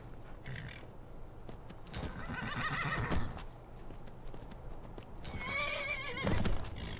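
A horse in the Skyrim video game whinnies loudly twice, with hoofbeats clopping steadily beneath the calls over a constant background rumble.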